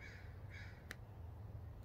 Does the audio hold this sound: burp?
no